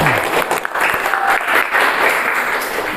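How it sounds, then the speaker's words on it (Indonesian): Classroom applause after a student group presentation, a dense, loud, continuous patter of many hands clapping together close by, lasting throughout with no break. "Aplaus terlebih dahulu."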